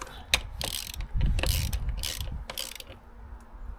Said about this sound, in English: As always, correct torque. Click.